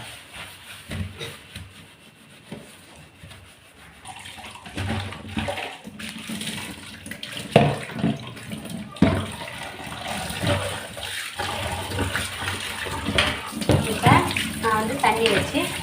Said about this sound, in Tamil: தண்ணி வச்சு நல்லா ஃபஸ்ட்டு கழுவிக்கிறேன்.